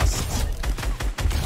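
Fortnite gunfire in a quick string of several close, punchy shots, loud and evenly spaced over about a second and a half.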